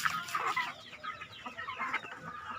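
Free-range native village chickens clucking and chattering, several birds at once at moderate distance, with steady overlapping clucks and brief higher calls throughout.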